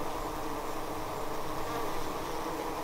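Honeybees buzz around a hive in a dense, steady drone that stays continuous and fairly close, with no voices.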